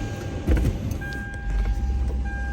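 A Toyota Land Cruiser 100 Series engine cranks with a short burst, then catches and settles into a steady low idle rumble close by, with no voices.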